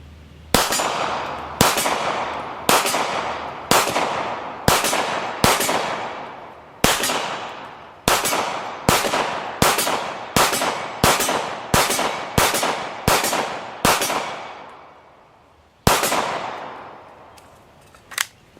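Steyr M9A1 pistol firing a string of about sixteen sharp, loud gunshots in an uneven rhythm, several quick pairs and short pauses, with one final shot after a gap.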